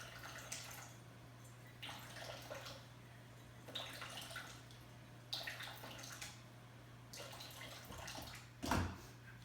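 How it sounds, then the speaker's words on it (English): Water splashes and trickles into a mixing bowl in several short bursts at a steady pace, quiet and close, over a low electrical hum, ending with a clunk. "And you need 3 tablespoons of water."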